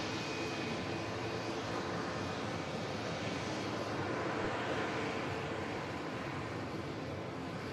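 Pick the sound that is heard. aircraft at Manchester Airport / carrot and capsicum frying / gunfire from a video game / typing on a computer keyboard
aircraft at Manchester Airport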